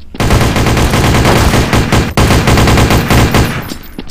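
Rapid, loud gunfire in Counter-Strike: Source, a dense close burst of repeated shots with a brief break midway, fading out at the end, no talk.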